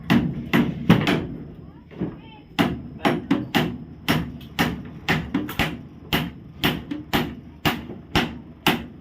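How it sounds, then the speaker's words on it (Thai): Repeated hammer blows driving nails, a steady run of sharp, loud strikes about twice a second, each ringing briefly, with a person talking over the first couple of seconds. "ตอกตะปูอยู่ปัง"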